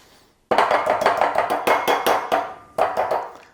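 An orange is zested on a grater in a flan recipe, each quick rasping stroke following the last in an even rhythm, close and fairly loud, after a brief quiet start.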